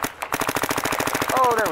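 Dye DSR paintball marker firing a quick run of sharp, evenly spaced shots, each crack near and loud with a steady rhythm, mechanical ringing underneath.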